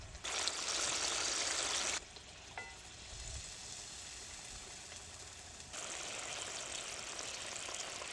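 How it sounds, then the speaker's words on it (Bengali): Water poured into a simmering poppy-seed pabda fish gravy in a pan, a bright rushing hiss at the start that drops to a low bubbling sizzle, then swells again near the end. "এবার আমি জল দিয়ে দেবো।"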